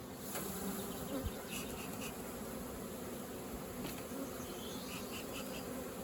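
Dense, steady buzzing of many honey bees at a hive, close and continuous, with no voices.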